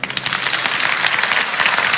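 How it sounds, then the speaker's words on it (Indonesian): Church congregation applauding during a sermon, loud close clapping from many hands forming a continuous, slightly fluctuating wash with no voices standing out. "Yang percaya kasih tepuk tangan untuk Tuhan."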